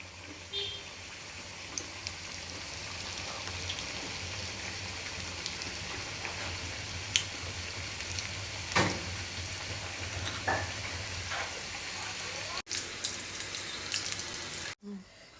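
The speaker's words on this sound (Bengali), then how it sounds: "এখন আমি সবার জন্য এই সিঙ্গারাগুলো ভাজবো" Samosas frying in a pan of hot oil, giving a steady broadband sizzle that runs throughout with a few faint clicks and bumps, no talk over it.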